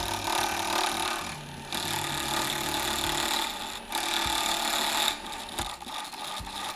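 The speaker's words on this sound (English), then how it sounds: "When the tool's cutting right, it almost peels the wood" Wood pen blank being cut on a lathe with a turning tool, a steady, fairly loud broadband hiss-and-whir of peeling wood with a few brief dips and knocks, no talk.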